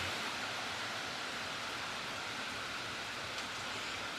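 Rain falls steadily during an outdoor workout, a soft, even wash of hiss that stays constant throughout with no voices.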